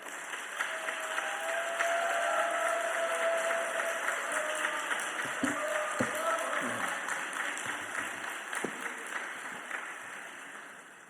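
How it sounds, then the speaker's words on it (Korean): A church congregation applauds to welcome a guest pastor in a continuous soft wash of clapping, heard from a distance, with voices and a few thumps mixed in. "나오실 때 박수로 환영합시다"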